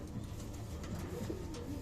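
A young white racing pigeon in a loft gives soft, close cooing over a steady background hum, with no talking.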